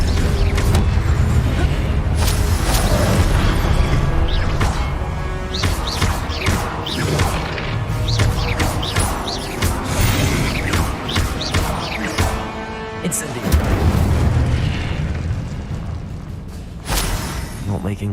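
In Hogwarts Legacy, the Incendio fire spell is cast amid dense magical effects: whooshing bursts, creaks, crashes and thuds layered over a continuous rumbling game soundscape, loud throughout.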